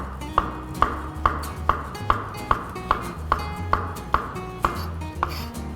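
A knife thinly slices button mushrooms on a cutting board in a steady series of about a dozen crisp, evenly spaced taps, each with a faint ringing ping, close up with no talking.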